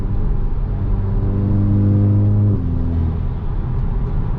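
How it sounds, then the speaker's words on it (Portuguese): Volkswagen Jetta 2.0 TSI exhaust roaring as it accelerates, a loud close engine note climbing steadily before a sudden drop at a gear change, then a lower rumbling drone. "Dá pra escutar bem certinho o carro piano, subiando, explodindo"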